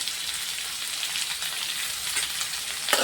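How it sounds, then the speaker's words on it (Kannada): Sliced onions frying in hot oil for an onion palya, giving a close, continuous sizzle with faint stirring scrapes and a sharper crackle at the very end. "ಇವಾಗ ಇದು ಸ್ವಲ್ಪ ಫ್ರೈ ಮಾಡ್ತೀನಿ"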